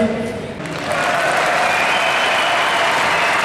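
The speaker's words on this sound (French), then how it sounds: "On les applaudit." Loud audience applause in an arena at an indoor motorcycle trial competition, a broad roar of clapping and crowd noise that swells after a brief dip and holds steady.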